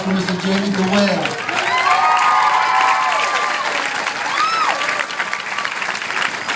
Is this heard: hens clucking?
no